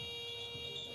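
Buzzer at a FIBA 3x3 Europe Cup qualifier basketball game in Slovakia, a steady electronic tone held through the full second at moderate level with faint arena ambience beneath.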